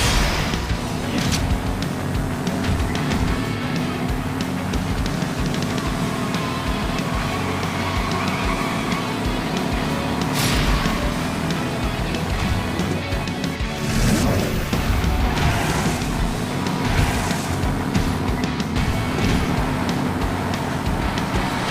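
Racing cars in the Hot Wheels Unlimited mobile game roar steadily throughout, a dense engine drone with sharp crash-like bursts and booms scattered across the run, no talking.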